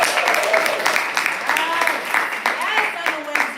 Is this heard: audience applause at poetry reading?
yes